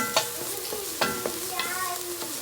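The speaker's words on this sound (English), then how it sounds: "I've let the onions and mushrooms sweat" Onions and mushrooms sweating in a pan for beef vegetable soup, a close steady sizzle with several spoon-stirring scrapes at uneven intervals.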